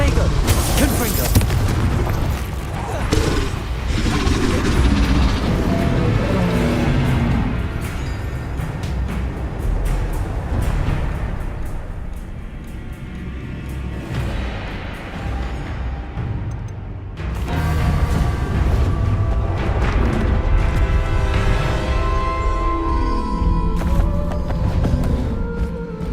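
Confringo and Bombarda spell blasts in Hogwarts Legacy boom repeatedly in heavy, rumbling bursts, loud and close, mixed with combat noise and game music while a voice calls out incantations.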